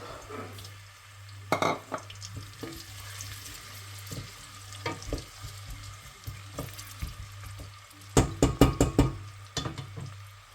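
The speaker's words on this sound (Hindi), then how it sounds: "जो चॉप किया हुआ प्याज है वो डाल देंगे। इसको हल्का ब्राउन करेंगे।" Chopped onion frying in a pan, a low steady sizzle broken by several sharp spoon knocks and stirring clatters against the pan, with loud bursts near the start and toward the end.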